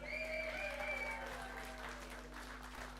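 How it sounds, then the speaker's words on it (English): Applause from a small pub-style audience at a covers gig, thanking the band's sound man; steady clapping that stays fairly even, fading slightly toward the end, with a low mains hum underneath. "So a big round of applause, please."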